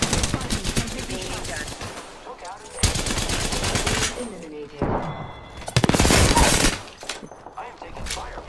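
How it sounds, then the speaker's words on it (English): Automatic gunfire in an Apex Legends match, loud rapid bursts of several seconds each separated by short gaps, with in-game voice callouts and talk mixed in. "I am taking fire, friends."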